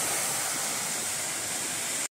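A small mountain waterfall on a trek toward a monastery rushes in a steady, full broadband roar, constant and close, then cuts off abruptly.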